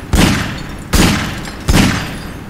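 Three loud gunshots in Garry's Mod, evenly spaced under a second apart, each a sharp boomy crack with a decaying tail, alone with no talk.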